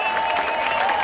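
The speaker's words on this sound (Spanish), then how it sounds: "Señores, que se siente ese aplauso bien fuerte." An audience at a live mambo concert claps in a steady, dense burst of applause.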